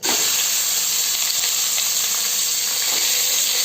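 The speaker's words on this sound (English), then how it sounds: "I am going to add the washed and chopped 250 grams of mutton into it" Chopped mutton, washed and weighing 250 grams, hitting hot refined oil in a wide pan gives a loud, steady, close sizzle that holds unbroken with no let-up.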